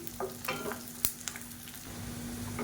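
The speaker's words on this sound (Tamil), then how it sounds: "இது ரெண்டுமே நல்லா வதங்கணும் தனித்தனியாகவும் வதக்கிக்கலாம்" Pirandai (adamant creeper) and garlic sauté together in oil in a pan, giving a soft, steady frying crackle broken by several light spatula scrapes and one sharp clack, fairly close and quiet.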